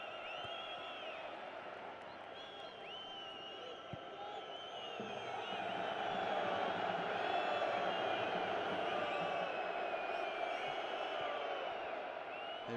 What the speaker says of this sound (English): the crowd really getting into this